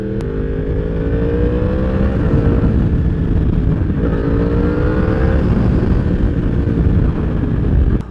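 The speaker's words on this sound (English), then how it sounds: "I could write poetry about this exhaust sound." A loud Yamaha R1 motorcycle exhaust roars up close, engine pitch rising and falling through gear changes, continuous and heavy throughout.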